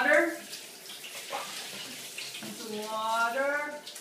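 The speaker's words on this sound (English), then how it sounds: "Want some water?" Bathtub tap water running steadily for a dog's shower, a close, continuous rushing under a voice speaking to the dog.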